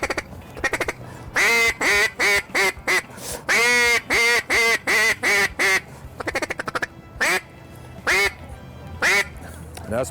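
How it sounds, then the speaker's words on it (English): A hand-carved duck call is blown close up at a decoy collectors' gathering, giving rapid runs of nasal quacks in bursts, some single and some in quick chains, loud and clear. "That's my duck call."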